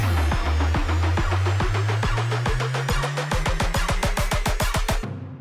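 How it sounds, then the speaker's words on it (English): A processed synth sub bass build-up for a new electronic track: loud, deep pulses repeat in a quickening rhythm and climb slowly in pitch, then stop abruptly after about five seconds. "I have made a sub build up here, which sounds like this."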